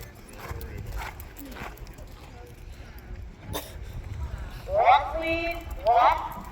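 Horses walk at an easy pace outdoors, their hooves making soft, rhythmic clip-clops, with people talking over them toward the end.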